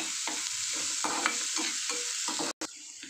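Sliced onions fry with a pinch of salt in a pan, turning golden brown, a continuous bright sizzle broken by rhythmic scraping stirs, with a brief cut near the end.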